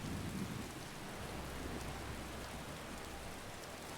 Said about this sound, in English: Here's some rain.